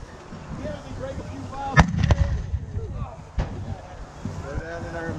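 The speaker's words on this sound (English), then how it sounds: "Cannons." Cannons fire at a Civil War battle reenactment at New Market, Virginia: a few sharp, distant booms spaced a second or so apart, over wind noise and faint outdoor voices.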